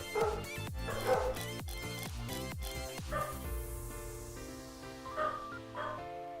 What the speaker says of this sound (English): The dog chorus is going super hard right now.